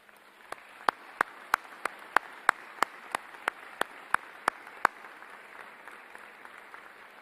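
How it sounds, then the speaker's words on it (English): Sparse, widely spaced hand claps from a small audience at a university convocation ceremony, roughly a dozen sharp distinct claps in a steady rhythm, then fading into quiet room tone. "Let's give them a round of applause."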